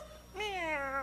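A voice imitates a cat meowing in one drawn-out, rising and falling meow, close and clear, following a moment of quiet.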